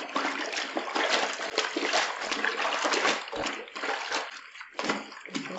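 White towels are scrubbed and swished by hand in a tub of water, giving continuous close splashing, sloshing and trickling with brief pauses, no voice over it.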